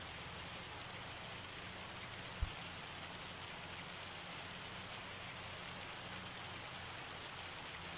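Hail pattering steadily in the Farming Simulator 25 video game, a dense even hiss of impacts with one brief low thump midway, fairly quiet and without voices.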